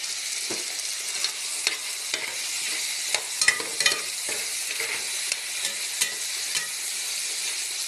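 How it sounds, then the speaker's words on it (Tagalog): Pork being sautéed in a pan for nilagang pork, with a continuous bright sizzle of hot fat and intermittent stirring scrapes and spatula knocks, close and fairly loud, with no speech. "Higisa natin mabuti para malasa itong ating nilagang pork."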